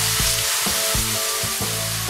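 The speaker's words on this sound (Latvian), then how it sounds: "Tikko brītiņam apmaišam, lai vienmērīgi apsakās visi gabaliņi." Vegetable pieces for ratatouille sizzle and crackle loudly in a pan of hot oil, with a steady fry broken by rhythmic scraping strokes as they are stirred.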